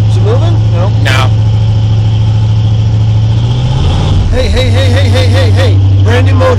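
Freshly built 1981 Ford 400 V8 on its first cold start, idling loudly and steadily up close with a brief dip and rise in pitch, while people talk over it.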